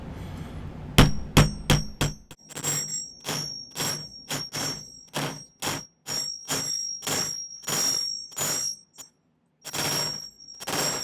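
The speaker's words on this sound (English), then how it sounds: "This is the texturing hammer that I'm going to use. It's got kind of a corrugated end on it." A corrugated texturing hammer strikes a silver ring band on a silversmith's bench, sharp metallic taps landing in a steady repeated rhythm, close and loud, with a brief pause near the end before the blows resume.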